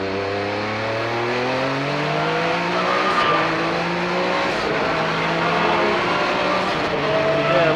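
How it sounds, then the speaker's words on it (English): The number 77 Mazda RX-7 92P race car screams along the straightaway on a racing circuit, its high, rising engine note loud and close as it passes, with the pitch climbing through the gears. "doing a nice bit of grinding in that number 77 Mazda RX-7 92P"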